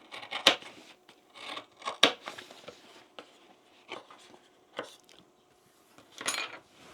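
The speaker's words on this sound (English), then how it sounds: "I'm going to trim that seam a little bit." Scissors trim the seam of a fabric bag, making a close series of crisp, irregular snips and small metallic clicks separated by short quiet gaps, with no talk over them.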